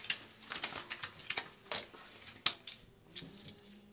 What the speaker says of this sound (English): I'm going to use these scissors that do designs. And I'm just going to cut across here.